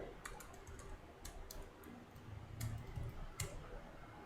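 Typing on a computer keyboard, a light, uneven run of clicks and key taps at close range with a few heavier strokes, playing alone without talk.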